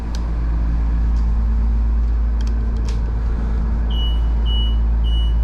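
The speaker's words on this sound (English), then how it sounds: "forgive the beep beep beep because the jacks are down" A steady engine hum fills the background of a 2020 Winnebago Intent 28Y motorhome as three evenly spaced jack warning beeps sound near the end, each short and high-pitched.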